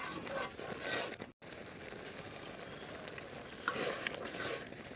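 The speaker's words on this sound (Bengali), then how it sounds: "বলক আসছে একটু এখন" Tomato chutney simmering in a pot gives a continuous soft bubbling hiss with faint stirring scrapes, close and quiet, broken by one brief dropout of silence partway through.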